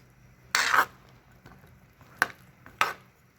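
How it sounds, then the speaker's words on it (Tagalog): Okra pieces drop into a simmering pot of shrimp sinigang with calamansi, three or four sharp splashes and clatters spaced across a few seconds against a quiet kitchen background. "Ihulog ngayon natin yung okra"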